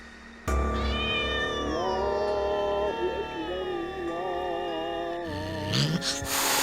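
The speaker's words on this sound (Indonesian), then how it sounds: "Kucingnya itu mengeong-ngeong panik seperti ada sesuatu di luar rumah." A cat meows loudly and continuously in a long, wavering, distressed wail, close by, ending with a sharper cry.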